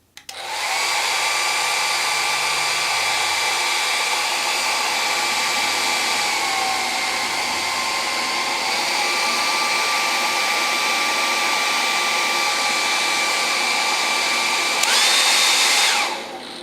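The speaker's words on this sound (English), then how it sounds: "here we have a hair dryer." A hair dryer powered by an EcoFlow RIVER Pro portable power station blows steadily with a loud, constant whine and airy rush, its pitch dipping briefly midway and rising near the end as the setting changes.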